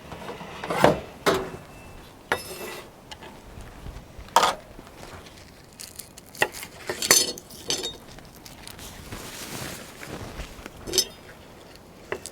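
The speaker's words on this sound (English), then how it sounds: "Cut up a little bit of spring onion" A knife chops spring onion on a board, with irregular sharp taps and clinks of utensils spread across several seconds, close and fairly loud, no talking.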